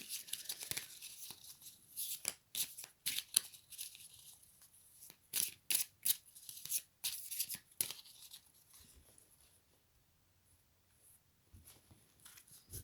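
A deck of oracle cards being cut and shuffled, a series of crisp papery riffles and flicks in bursts, close and quiet, with long near-silent gaps between.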